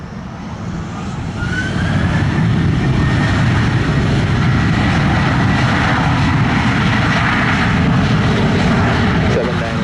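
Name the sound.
airplane taking off from runway at Sangster airport, Montego Bay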